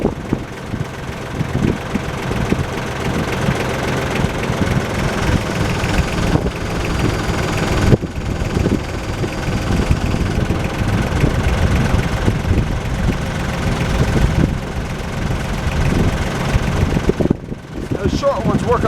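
A tractor engine idles with a steady, loud, low rumble close by while hauling logs, with wind buffeting the microphone throughout.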